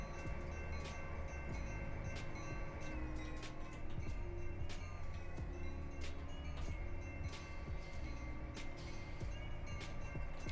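A model railroad train runs in reverse with a continuous mechanical whir and rattling clicks of wheels on track, steady and close throughout.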